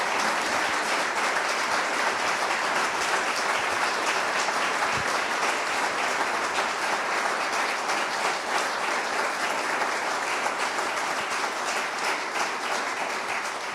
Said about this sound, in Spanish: les pido a ustedes un aplauso tanto para Beatriz como para Edmundo